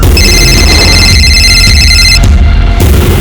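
A telephone ringing, a bright electronic warbling ring tone that repeats for about two seconds and then cuts off, loud and close over a low background rumble.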